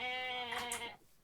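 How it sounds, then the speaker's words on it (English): Billy goats in the Minecraft Jurassicraft mod give one loud, drawn-out bleat lasting about a second, heard close and alone before it cuts off. "Oh my god, they're billy goats."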